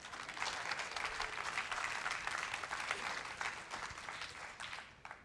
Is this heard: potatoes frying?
no